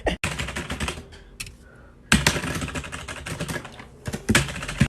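Rapid keyboard typing as a student types up exam notes, with dense bursts of clicks that stop briefly near the start and again around the middle, then resume at a steady pace.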